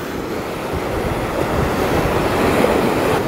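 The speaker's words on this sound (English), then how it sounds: "Can't see it, but that's the ocean." Mediterranean sea waves wash onto a beach in Israel with a steady, broad surf rush, mixed with wind noise on the microphone, continuous and fairly loud throughout.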